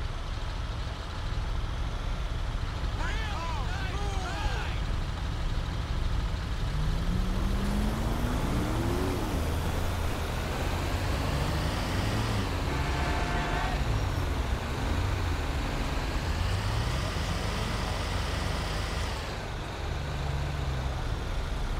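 A heavy truck, a Ford F-550 tow rig, cruises along a city road in GTA 5 with a steady engine drone and rolling road noise throughout, shifting pitch as it accelerates, with occasional sirens or horns blending in near the middle.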